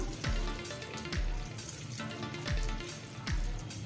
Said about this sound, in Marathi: त्याच्यावरती आता आपण थोडं थंड पाणी घालूया